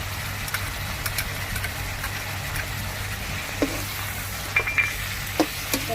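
Shrimp stir-fried in a wok with a premixed mala chili sauce, a steady close sizzle and frying hiss with a low rumble beneath and occasional scraping stirs, no voices.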